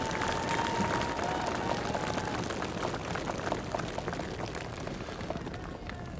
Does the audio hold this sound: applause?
yes